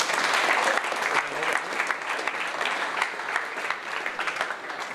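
An audience at a startup pitch night in Melbourne applauds a presenter, a full steady burst of many hands clapping that starts loudest and settles to an even, sustained patter across five seconds.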